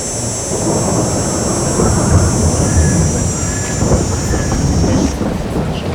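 Steady heavy rainfall and deep rumbling thunder in the farming video game Farming Simulator 22, a loud continuous wash with a constant high whine layered over it, with no speech.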